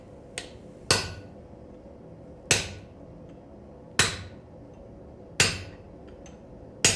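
Sharp, ringing hammer blows come one at a time, about one every one and a half seconds, each with a short decay. A fainter tap comes before the first strong strike, and no one speaks.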